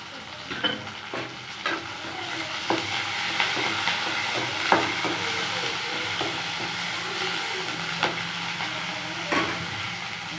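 Urad dal and curry leaves fry in a pan with golden onions, making a steady soft sizzle broken by repeated light scraping and stirring taps, fairly quiet and close.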